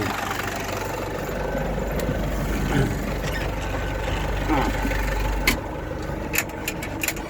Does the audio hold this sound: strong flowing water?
no